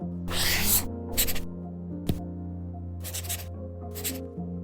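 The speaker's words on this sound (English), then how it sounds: "It's the sound of the new Remarkable Paper Pro" A stylus scratches across a Remarkable Paper Pro tablet screen in several short strokes, crisp and close, with a faint steady hum in the background.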